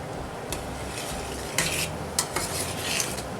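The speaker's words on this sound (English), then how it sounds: "Now the water is boiling rapidly and I'll keep on stirring it." Repeated stirring and scraping in a pot of Scotch bonnet hot sauce boiling rapidly on high heat, over a bubbling, sizzling background, with a few sharper clinks of a utensil against the pan.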